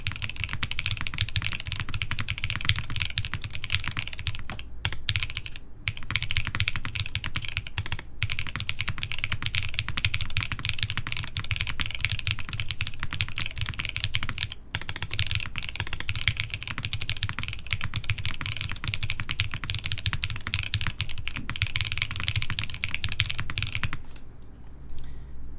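A TGR Jane v2 CE custom mechanical keyboard is typed on fast and continuously for about 25 seconds, with dense, close, loud key clacks, brief gaps and spacebar strokes.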